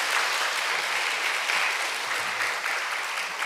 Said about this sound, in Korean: 이렇게 박수도 쳐주시면 고맙겠습니다.